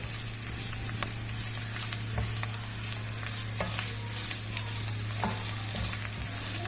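Turmeric and Kashmiri chili powder get stirred in a frying pan, giving a continuous oily sizzle with light spoon scrapes and taps under a steady low hum, with no voices.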